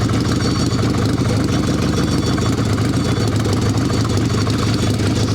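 An Evo Sporty chopper motorcycle engine runs steadily at close range, a loud, continuous rumbling idle with no break.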